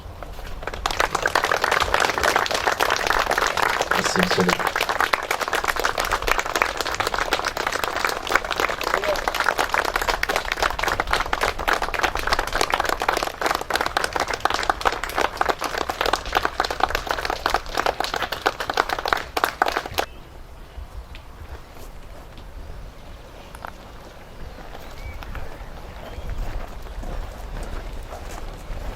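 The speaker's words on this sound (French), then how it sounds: "Je vous demande, en leur mémoire, d'applaudir pendant 1 minute." Outdoor crowd at a memorial ceremony for Moroccan Tirailleur regiments in Carvin applauding steadily for about twenty seconds, dense and close, then stopping, followed by a voice speaking over quiet ambience.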